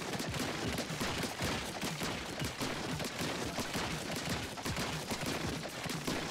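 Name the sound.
ink weapon shooting in Splatoon 3 video game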